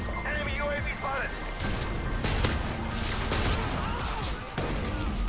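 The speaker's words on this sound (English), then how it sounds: "Oh, the sentry gun." A sentry gun fires in Call of Duty: Modern Warfare 2 on PC, loud rapid bursts mixed with other gunfire and crashes in a dense battle din, while a player talks over it.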